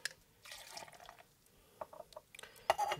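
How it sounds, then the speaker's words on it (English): Gin poured from a measuring cup into a cocktail shaker filled with ice: soft trickles and drips, then sharper clinks and splashes near the end, quiet and close with no talk. "pour 1 ounce of gin into a measuring cup, and then pour it into your shaker with ice"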